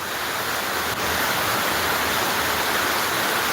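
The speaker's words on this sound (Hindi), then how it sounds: "बहुत ही बेहतरीन झमाझम बारिश" Heavy monsoon rain pours down, a dense, steady hiss of downpour filling the scene, loud and unbroken throughout with no voices.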